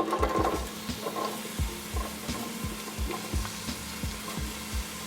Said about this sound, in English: What I'm left with in the pot is this brown liquid, to which I'm going to add half of the onions.